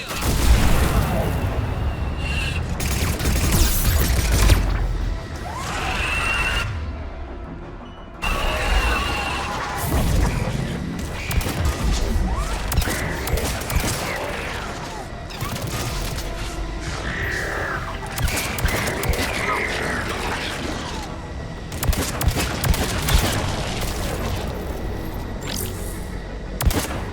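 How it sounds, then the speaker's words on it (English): Missile salvos launching in the sci-fi game Mass Effect 3, with loud booming blasts, crashes and explosions layered over ongoing battle noise, and voices speaking at times. "Missiles away."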